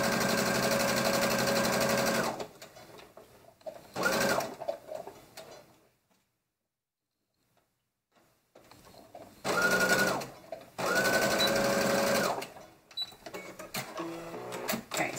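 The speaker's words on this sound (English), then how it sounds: "you're pretty much sewing your sleeve flat" A sewing machine sews a dress sleeve flat in several bursts of fast, steady stitching, stopping and starting with a long silent gap in the middle.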